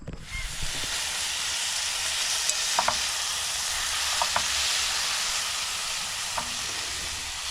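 Food fries loudly in a pan at an outdoor car-camping site, with butter and salt added: a steady, dense sizzling hiss throughout, dotted with a few tiny clicks and pops.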